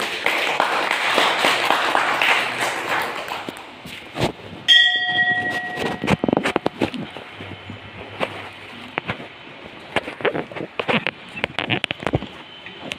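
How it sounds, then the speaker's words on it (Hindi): An audience at a Bhagavad Gita group gathering claps to welcome a guest, a dense burst of applause that thins into scattered claps, with a bell-like tone ringing briefly midway. "जोरदार ताली में गुजारिश"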